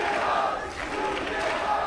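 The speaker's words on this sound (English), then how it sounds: "Especially when they're cheering for their favorite mythical creature." A live esports studio audience at the EU LCS cheers and roars as a crowd. It makes a brief, loud, continuous wall of voices.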